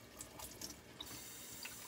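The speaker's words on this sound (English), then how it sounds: "Get them wet. And I'll let the water drip out and we'll stack those up in my sprouting tray" Rinse water drips and trickles from wet sprouting seeds draining into a sprouting tray, faint and close, with a few scattered drops and a soft running splash and no talking.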